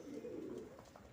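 Domestic pigeons cooing softly at the moment they are bathed, a low, steady burbling coo on its own, fairly quiet and without voices.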